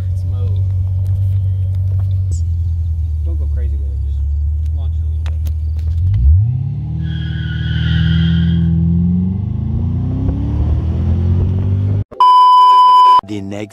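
A car in sports mode revving and accelerating, a deep engine rumble rising in pitch through the second half, with voices and a brief beeping burst near the end.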